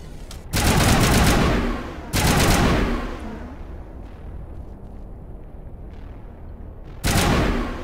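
Bursts of automatic gunfire from a Mass Effect firefight, three heavy loud volleys separated by quieter stretches of lingering rumble and distant shots, with no talk over them.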